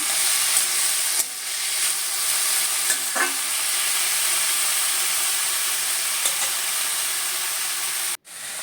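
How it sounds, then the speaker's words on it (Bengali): Drained fenugreek greens frying in a pan with green chili and salt, a steady close sizzle with occasional scraping stirs, cut briefly near the end, with no talking. "নাড়াচাড়া করে মেথি শাকটা ভেজে নেব।"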